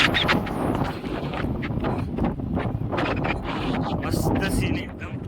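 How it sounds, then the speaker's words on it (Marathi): Strong wind buffets the microphone beside Mulshi lake in Maharashtra, gusty and loud in uneven surges, with voices talking through it. "जोरात वारा पडला."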